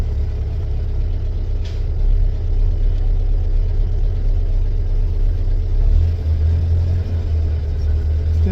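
A 1958 Volkswagen Beetle engine runs with a low rumble close by, swelling slightly as the car pulls out of a shed, with a deep throaty drone throughout.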